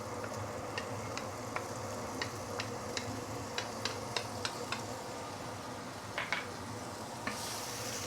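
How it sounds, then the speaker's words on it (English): Cut fresh herbs, ginger and salted black bean sauteing in vegetable oil for Hakka stuffed tofu, a steady low sizzle with light ticking taps from stirring scattered through, fairly quiet and with no talk. "We're going to saute this for a while before we continue."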